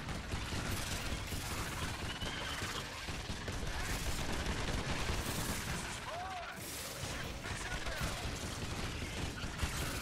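Turret gunfire in the Earth Defense Force: Insect Armageddon video game, a dense continuous rattle of shots and explosions filling the whole stretch, loud and unbroken.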